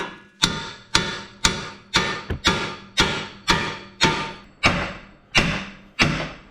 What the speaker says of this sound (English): big hammer time now